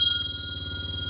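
Short notification bell chime used as a sound effect, bright ringing tones over a low pulsing background, lasting about a second.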